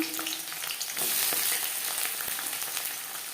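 Sliced onions sizzle and fry in hot mustard oil in a pan for a chicken and potato curry, a steady close crackle with a brief stir.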